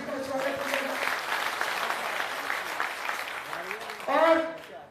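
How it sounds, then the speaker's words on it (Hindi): A crowd at a Jan Suraj political event in Bihar claps to welcome a guest, a continuous round of applause heard under a loud voice speaking over a public address system, with a brief louder vocal burst near the end. "जोरदार तालियों से स्वागत किया"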